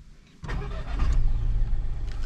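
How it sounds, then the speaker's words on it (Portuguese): A car's petrol engine cranks and catches abruptly, then settles into a loud, close, steady idle with a slight rev; no talk over it. "Como é que é o barulhinho do motor?"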